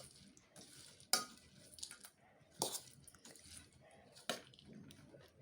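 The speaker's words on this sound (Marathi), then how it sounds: "तर आता परत एकदा आपण मिक्स करूया." Quiet scraping and stirring of bhel snack being mixed in a bowl, with three sharper clinks of a utensil against the bowl standing out over soft rustling.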